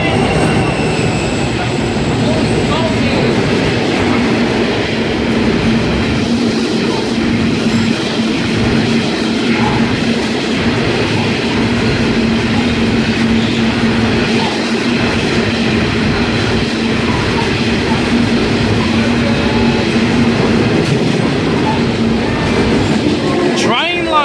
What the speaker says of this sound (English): We got some 81 classes passing platform number 1 heading to Richie Hill